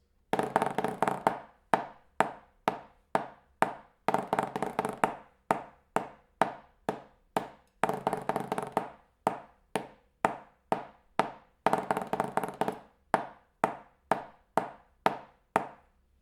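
Orchestral snare drum strokes in a steady loud buzz roll practice pattern, single taps alternating with short sustained buzzy rolls on 16th notes, close and moderately loud with no talking.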